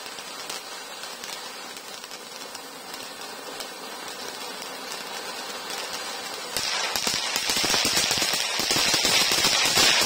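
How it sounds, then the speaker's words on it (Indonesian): Dense rapid crackling pops from a pyramid-type firecracker run continuously, then burst louder and harsher partway through, like a firecracker going off in a fast chain. "Selanjutnya ini kita punya mercon model piramid."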